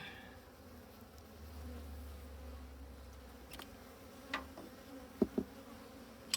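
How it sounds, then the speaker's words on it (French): Agitated honeybees buzz at an opened hive as a frame is lifted out, a faint steady hum with a few sharp nearby clicks and knocks. "Les abeilles un petit peu agacées"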